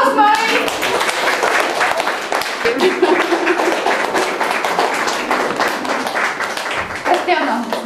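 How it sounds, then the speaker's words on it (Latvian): Dense, steady applause for Lāsma Vilciņa fills the whole stretch, with many hands clapping quickly and close together at an exhibition gathering, and voices mixed in underneath. "Aplausi Lāsmai!"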